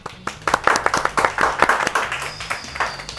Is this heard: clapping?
yes